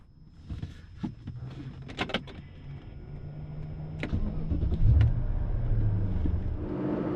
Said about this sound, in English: we are on the road in the Z8, and the car drives fantastic